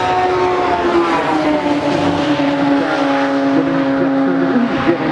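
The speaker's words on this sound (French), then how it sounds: "Jeremy Ferguson dispose d'une SR8 beaucoup plus rapide que la SR3 de son adversaire" Radical SR8 and SR3 race cars scream around Spa-Francorchamps in a steady, loud engine drone, pitch sliding slowly as they hold speed through the lap with no break in the noise.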